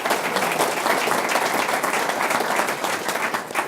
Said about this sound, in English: I'd like to give one final round of applause for all of our panelists on the far end.